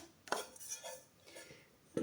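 A metal backcountry cooking pot with a silicone-coated lid with strainer holes, handled up close: a sharp clank as the lid is set on, soft scraping, and another clink at the end.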